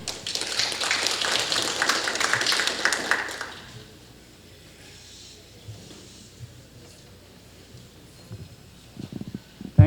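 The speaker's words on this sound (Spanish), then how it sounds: "Démosle un fuerte aplauso a Dr. Song." Audience applause at a metallurgy lecture on copper smelting and flash converting, a broad dense burst of clapping for the first three and a half seconds that then fades into quiet room noise with scattered small sounds.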